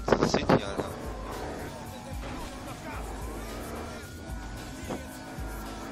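A car drifting through city streets in the video game Battlefield Hardline: engine drone with tire squeal and skidding, sharp impacts at the start, and a voice talking over it.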